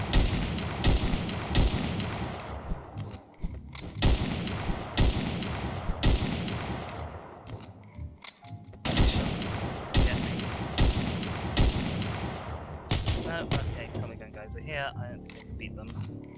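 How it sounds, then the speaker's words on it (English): Repeated gunshots ring out in the video game Of Murder and Moonshine, loud sharp cracks spaced about a second apart through most of the stretch, with players talking over the shooting. "Shoot him! Shoot him with your gun!"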